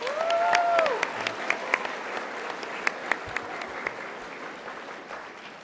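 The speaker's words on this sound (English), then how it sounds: "Give yourself a big round of applause." An audience at an eighth-grade graduation ceremony at Veterans Memorial Intermediate School breaks into sustained applause, with scattered sharp claps standing out. A brief voice is heard at the start.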